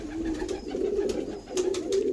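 Young breeder pigeons coo softly and repeatedly, their low throaty calls rolling on continuously nearby with faint background noise.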